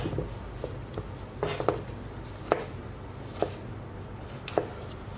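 A kitchen knife slices potatoes lengthways into thick chips about a centimetre wide for poutine, giving several crisp, separate chops on a board, spaced roughly a second apart, close and fairly quiet with no talking.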